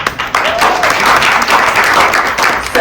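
A conference audience at a women's conference bursts into loud, close applause with uneven bursts of clapping, with some voices and cheering mixed in.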